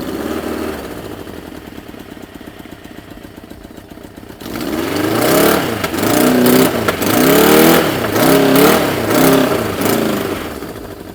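A vintage Honda or Suzuki motorcycle engine runs quietly at idle, then revs up loudly in repeated rising and falling surges as the throttle is blipped, close by.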